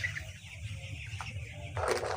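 Kalarghat chickens cluck softly on a riverside farm, faint scattered calls over a steady low hum, with a brighter burst of noise near the end.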